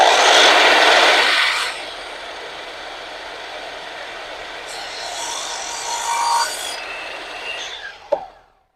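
A miter saw cuts off the excess end of a baseboard with a short, loud rasping burst, then the motor winds down over several seconds before ending with a sharp clack.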